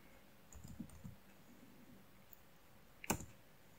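A few soft clicks from a computer keyboard during a Salix Linux install, followed by one sharp, louder keystroke near the end, close and alone in a quiet room.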